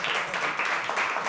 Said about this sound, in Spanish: Otro aplausito para ella.